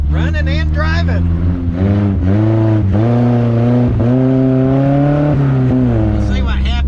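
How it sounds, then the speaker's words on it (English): A 1984 Mazda miniature U-Haul truck runs with a steady, buzzy engine note that rises and falls under repeated throttle. A voice talks over it near the start and near the end. "the motor sounds happy enough for driving around here and having a little fun right now"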